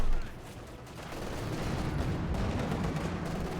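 Mortar fire in the WWII strategy game Company of Heroes 2, a steady wash of distant battle rumble and scattered muffled shots under a busy, continuous mix, with no single sharp launch standing out.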